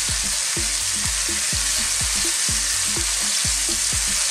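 Bacon with thyme and smoked paprika sizzles in a pan on high heat, a loud steady hiss broken by regular stirring scrapes about twice a second.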